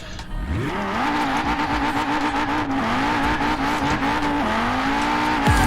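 An Audi RS2's 2.2-litre inline-five engine in Forza Horizon 4 revs up and holds a high, steady drone with a slight rasp, rising and dipping briefly before cutting off abruptly.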